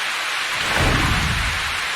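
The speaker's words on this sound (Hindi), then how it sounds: "ओ, पानी की बौछार।" A steady rush of heavy water spray, like a downpour, fills the clip with dense hiss and a low rumble swelling near the middle.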